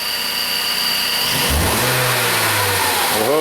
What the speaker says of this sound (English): Alright, Tammy, you want to step on the gas?